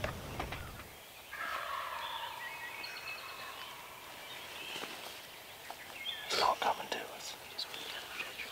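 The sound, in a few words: wild turkey gobbling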